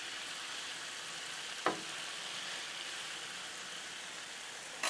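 Steak and potato bites frying on a Blackstone griddle make a quiet, even hiss throughout, broken by two brief spatula taps.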